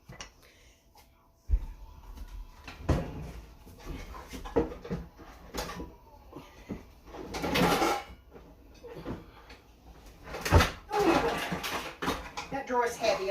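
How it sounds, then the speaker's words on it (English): A heavy kitchen drawer holding wooden spoons is dragged open with a sliding rumble and a few solid clunks, while a person talks nearby throughout. "Drawer is heavy. I'm going to have to lighten the load on it."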